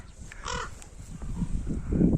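Ravens cawing over an apple orchard in a field, a few hoarse calls at a moderate distance, heard alone against quiet outdoor background.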